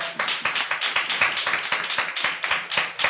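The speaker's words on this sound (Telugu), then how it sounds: "చప్పట్లు కొట్టిన గట్టిగా." A church congregation at a Sunday service clapping loudly in a fast, even rhythm, sharp claps repeating throughout with no speech on top.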